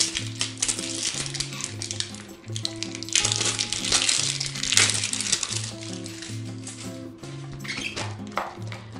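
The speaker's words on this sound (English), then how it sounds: "This is a pink vessel. Let's tear that open." A foil package is torn open and crinkled up close. The crackling comes in bursts, with brief background music beneath.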